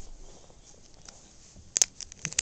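A few quick, faint metallic taps near the end, a hand striking a Master Lock No. 3 padlock, coming in a small irregular cluster after a quiet stretch.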